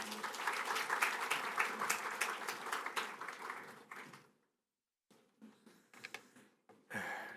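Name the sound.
congregation applauding to welcome the pastor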